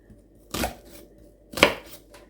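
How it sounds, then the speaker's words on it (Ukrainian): A knife chops an onion on a board in two crisp, close, evenly spaced cuts about a second apart, with faint softer knocks trailing each one. "От таким чином я ріжу цибулинку."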